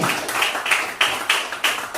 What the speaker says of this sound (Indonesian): Berikan tepuk tangan yang meriah untuk Agra